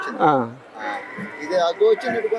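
A buffalo at the Erragadda buffalo market gives one short, close lowing call, then people talk nearby with other animal sounds in the background.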